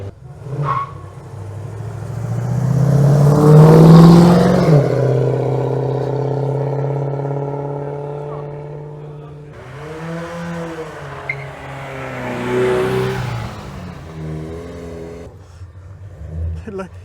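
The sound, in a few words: car accelerating at hillclimb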